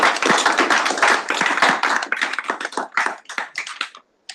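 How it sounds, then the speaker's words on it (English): Audience applause at a Senate session, a burst of close clapping that thins into scattered claps before stopping, with no talking. "A big round of applause, everybody."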